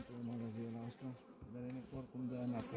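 Honeybees foraging on flowering rapeseed give a close, steady buzzing drone that rises and dips as individual insects pass near and away, with a few brief lulls and no talking.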